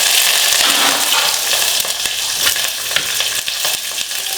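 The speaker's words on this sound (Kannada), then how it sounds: "ಒಂದು 5ರಿಂದ 6 ಬೆಳ್ಳುಳ್ಳಿನ ಜಜ್ಜಿ ಹಾಕ್ತಾ ಇದ್ದೀನಿ" Crushed garlic, dried chili, asafoetida and curry leaves fry in hot oil, giving a steady, loud, close crackling sizzle that carries through without pause, with occasional stirring clicks on top and no talk.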